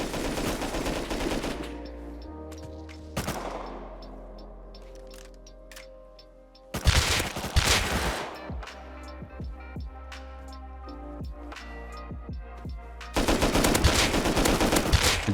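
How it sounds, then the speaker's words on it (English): Rapid LR rifle bursts in the Rust survival game, loud and close, coming in several separate volleys with sharp, crackling automatic fire and short gaps between them, and no talking. "Blueprint starts beaming me with his LR"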